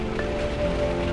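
Steady rain falls in a dense, even hiss while an RV family is out on a highway near Gulfport, with a faint constant hum underneath and no voices.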